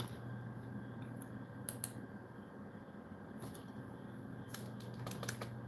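Typing on a computer keyboard: light clicking keystrokes come in small bursts and scattered single taps over a steady hum of room noise.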